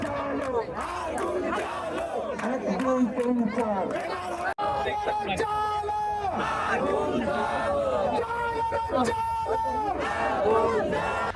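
Protesters at a road blockade in Barishal demanding medical reform chant slogans together, a loud crowd of voices rising and falling in repeated call-and-response bursts, with a brief cut partway through.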